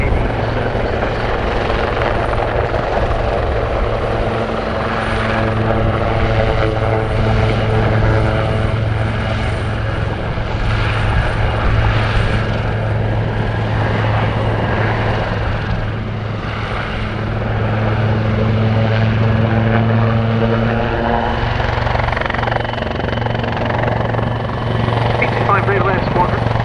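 A Westland Wildcat HMA-2 naval helicopter performs a solo flying display at Cosford Airshow, its loud, steady rotor drone and engine whine filling the air continuously, with a voice talking over it.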